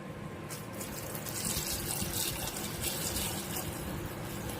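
Water pours into a pot from a tap for boiling eggs in a home kitchen, a soft continuous rushing splash that stays faint and steady throughout.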